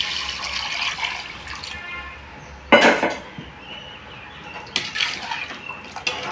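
Water poured from a tumbler into soaked rice in a pot for kuska, a soft splashing pour with a sharp clink of a metal vessel midway, followed by further light knocks and trickles in a quiet kitchen.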